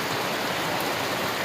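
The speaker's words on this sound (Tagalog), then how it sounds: "lakas ng ulan guys" Heavy rain pours down outdoors around a house under construction, a dense, loud, continuous hiss and roar with no breaks or voices.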